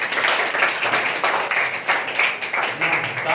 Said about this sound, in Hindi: इनके लिए भी ताली बनेगी।